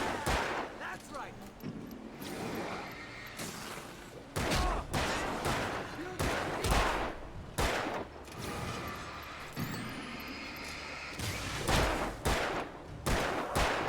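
Gunfire in the video game Alan Wake comes as loud single shots and quick volleys over a tense game soundscape, with a voice talking in between.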